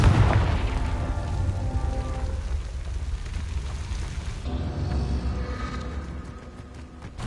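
A Confringo fire spell blast in the video game Hogwarts Legacy: a loud, deep booming rumble that starts strong, sustains with crackling noise and then gradually fades.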